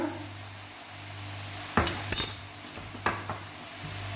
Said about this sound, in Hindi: इसको अच्छे से चला देंगे